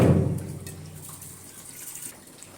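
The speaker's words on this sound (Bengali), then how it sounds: "তাওয়াটা একটু ধুয়ে নেওয়া লাগবে।" Running water splashes onto a tawa being rinsed, loudest at the start and then thinning to a quieter trickle with faint knocks.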